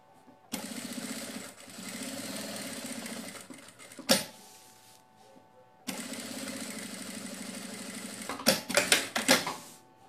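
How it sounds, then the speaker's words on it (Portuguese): A sewing machine stitches a seam on a lined fabric bag, running in two steady bursts of a few seconds each with a short gap between, close and moderately loud, ending with a few clicks and clunks. "eu vou passar a costurinha aqui"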